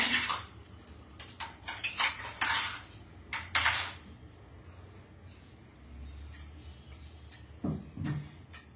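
A bowl and pan being handled in a home kitchen: a run of close ceramic and metal clinks, clatters and scrapes in the first few seconds, then quieter rustling and a last few taps, with no talking.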